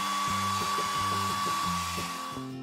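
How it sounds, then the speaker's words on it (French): A hair dryer blows steadily at close range, a constant whirring hiss with a high motor whine that drops off at the end. "Dirige l'air chaud d'un sèche-cheveux dessus pour qu'il coule."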